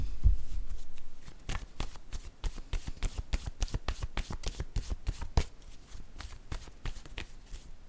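Tarot cards being shuffled by hand, a close series of quick riffling flicks and soft slaps in an uneven rhythm, fairly quiet.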